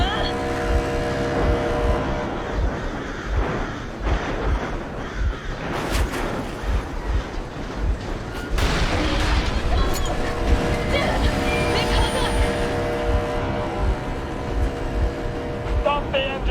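A vehicle engine running in the video game Metro Exodus, a continuous rough mechanical rumble with clattering, under game sound effects and voices throughout.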